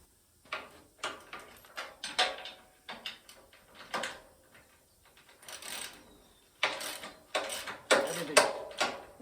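A ratchet loosens bolts on the chassis of a 1956 Chevy truck, giving bursts of quick clicking mechanical rattles with brief pauses, fairly faint and close with no talking.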